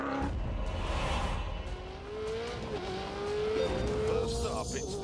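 A Ferrari 488 lapping a track in The Grand Tour racing game, its engine note rising and shifting steadily throughout with tire noise, a voice talking over it.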